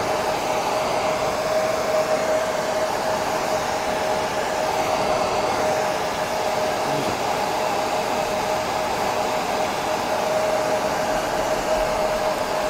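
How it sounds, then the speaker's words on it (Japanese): A hair dryer drones loud and steady for the whole stretch as it dries wet paint on a painting of the Ariake Sea and the Pacific, a constant close-up blowing whir with a faint tonal hum. "少しドライヤーですみません、乾かしております。"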